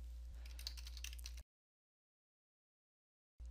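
A Windows command being typed on a computer keyboard: a short run of quick key clicks close by, then silence.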